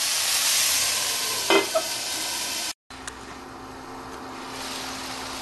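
Ridge gourd and potato curry simmers in a pan while a spatula stirs it, a steady sizzle with a couple of scraping knocks, then a brief cut and a quieter hiss.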